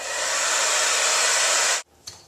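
Hair dryer blowing steadily and loud during a roller blow dry, a continuous broadband rush that cuts off abruptly near the end, followed by a couple of faint handling sounds.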